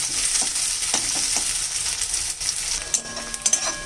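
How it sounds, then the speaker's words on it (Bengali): Onions fry in oil in a pan with a constant close sizzle, punctuated by a few clinks and scrapes of a stirring utensil toward the end. "পেঁয়াজটাকে একটু লাল করে ভেজে নেব।"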